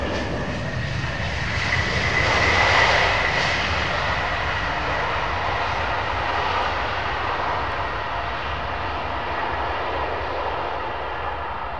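Jet engines at London Heathrow Airport, a loud continuous roar and whine that swells slightly early on, then holds steady and broad throughout, with no talking.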